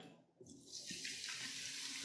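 Liquid poured from a bottle into a pan of marinated meat during Sunday dinner soul food cooking, a steady splashing pour that starts after a brief pause and runs continuously, close and clear with no talking.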